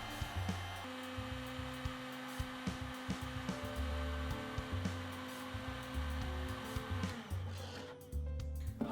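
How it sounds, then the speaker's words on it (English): A heat gun blows a steady, loud whirring roar while acrylic tube pieces are warmed and rolled to soften them for bending, with small knocks and shifts in pitch throughout. "I turned on the heat gun and rolled the pieces continuously"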